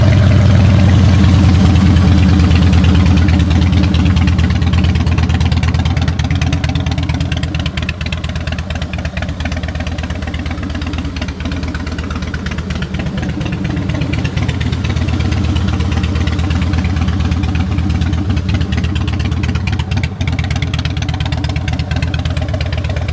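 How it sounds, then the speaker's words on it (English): A 2001 Harley-Davidson Softail Heritage with about 41,000 miles, fitted with Vance and Hines pipes, idles steadily up close with a deep, loud, throbbing V-twin rumble that swells slightly with light revs and never drops out. "those Vance and Hines pipes sound great."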